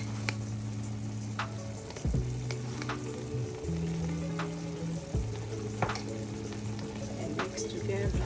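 Oil sizzles steadily in a pot as dried thyme and pepper seasoning are fried and mixed for jollof rice, with occasional scraping clatters of a spoon against the pot; no one speaks.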